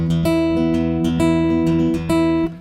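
Guitar rhythm strumming with the right hand, hitting a different string on beat two: bright, ringing strummed chords with rich sustained harmonics, several distinct strokes in a steady rhythm, close and loud, with no talking.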